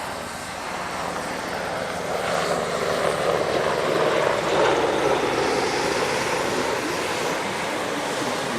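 A military attack helicopter passes at the Radom Airshow, a broad rushing rotor and turbine roar that swells toward the middle and holds steady at moderate distance, with no voices.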